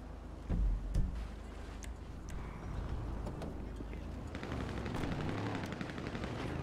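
Video game gunfire in a GTA roleplay session: a couple of loud close shots early on, followed by a steady rumble of game noise and distant activity.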